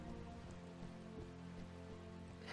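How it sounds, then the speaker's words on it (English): Steady rain patters across the battlefield in the game Mount & Blade Warband, a dense, constant hiss of drops with no voices over it. "Not only that, this rain."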